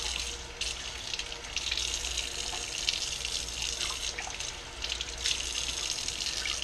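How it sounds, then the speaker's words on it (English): Tap water runs steadily from a faucet over bluegill fillets being rinsed in a sink, a continuous close hiss and splash with no talk. "you might want to try to rinse it off"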